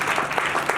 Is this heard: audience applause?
yes